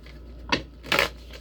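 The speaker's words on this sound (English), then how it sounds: "Oh yeah, that's a good shuffle." Tarot cards being shuffled in two short bursts, a quick riffle followed by a fuller, longer shuffle, close and fairly quiet with no speech.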